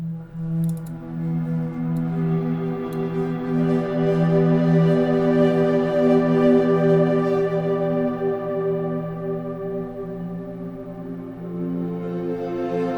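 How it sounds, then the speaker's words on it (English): A bright, shimmering synth pad holds sustained chords, swelling gently and fading slowly, with no voices. "this is more of like a bright, shiny pad"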